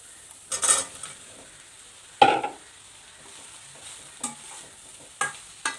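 Meal maker soy chunks fry with browned onions in a pan for a vegetarian chicken-style gravy, a soft sizzle broken by several sharp scraping stirs of a spoon, close and without talk.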